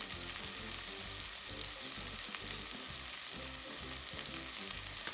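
Onions and garlic sizzle in melted butter in a pan for a seafood chowder, a steady close frying hiss with a soft rhythmic bubbling underneath and no talking.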